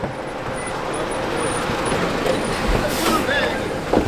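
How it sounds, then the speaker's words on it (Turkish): A bus pulls up at an African roadside stop, its engine rumbling steadily with traffic noise, a brief hiss of air brakes near the end, while people talk nearby. "Otobüs geldi."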